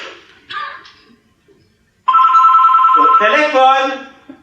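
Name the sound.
telephone ringing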